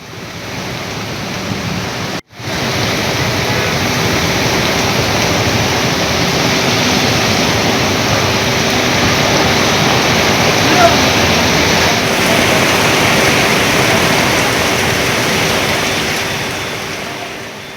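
Heavy rain pours down in Tambaram, Chennai, with floodwater running across the roads, making a dense, continuous hissing rush. One brief dropout comes near the start, and there is no talk.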